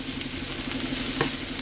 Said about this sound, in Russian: Сначала вот обжариваю лук.